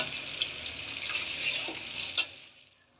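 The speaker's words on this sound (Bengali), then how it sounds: "এটা হালকা করে একটু ভেজে নেবেন, জাস্ট হালকা করে দিন।" Food shallow frying in oil in a kadai, a steady close hiss and sizzle with a few small pops, fading out at the end.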